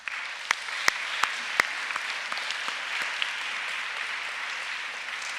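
An audience claps for students at a Christian academy grammar school chapel, with steady applause throughout and a few louder individual claps standing out near the start.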